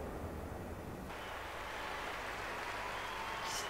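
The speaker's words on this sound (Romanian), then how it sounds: "Aplauze." Crowd applause after a diving performance at the London 2012 Olympic diving event: a sustained, even wash of clapping and cheering throughout, swelling slightly after the first second.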